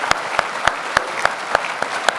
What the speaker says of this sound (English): Why don't we give a round of applause to James Scott and Marie Vallejo.